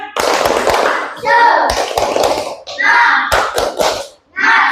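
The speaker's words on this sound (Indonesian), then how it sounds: "kita tepuk semangat dulu, biar tambah semangat pagi ini belajarnya" Schoolchildren in a classroom perform a rhythmic 'tepuk semangat' clapping chant, sharp patterned handclaps in bursts mixed with loud young voices chanting along, close and energetic, with a brief pause before a final burst.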